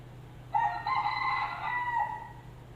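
A single rooster crows once, a clear drawn-out cock-a-doodle-doo near the mic that rises and holds, heard alone over a low steady hum.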